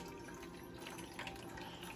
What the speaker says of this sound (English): So they're going to fill their cups up with water and then pour it in to the coffee maker